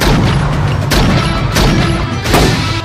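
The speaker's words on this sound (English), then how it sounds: "Here's another explosion for your movie, kid." Movie explosions from the action film Last Action Hero: three loud, heavy booms spaced under a second apart, each with a deep rumbling tail over a dense, roaring background.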